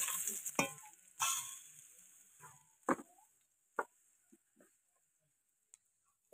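Crushed garlic tipped into hot oil in a pan sizzles briefly and is stirred, with a few scraping strokes early on, then scattered faint ticks and clicks as the frying quiets.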